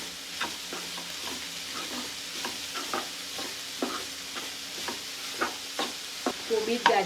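Shredded cabbage, capsicum and carrot cooking in a pan for momo filling, soft sizzling under repeated spatula stirs and light clatter, growing busier toward the end.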